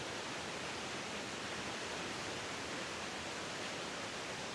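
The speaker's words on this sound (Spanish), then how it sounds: "Es un rinconcito escondido donde esta cascada cae como en esta cueva." A waterfall plunges into a hidden cave near San Jerónimo, outside Medellín, making a steady, dense, loud roar of rushing water that continues without break.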